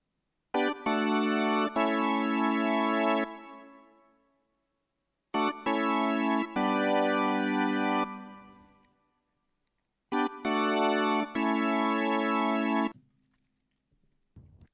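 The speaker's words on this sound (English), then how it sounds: "so what I did is I used the Wavestation Organ 2 Wave," Organ patch on a Korg Wavestation, Organ 2 wave in a Kurzweil-like tone, plays three sustained chord phrases separated by silences, each ending in a short decay, close and alone.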